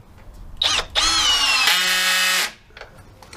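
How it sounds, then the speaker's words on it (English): An electric screwdriver drives a hammer fitting into wood, giving a short whirring whine that starts, briefly catches, then runs steadily for about a second before stopping abruptly, close and fairly loud. "we then take our trusty screwdriver"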